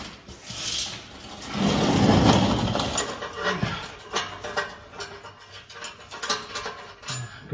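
Ratchet clicking while exhaust bolts are tightened on a Chevrolet S10 street/dirt drag truck, a run of quick mechanical ticks and clatter, loudest early then continuing in short uneven bursts close by.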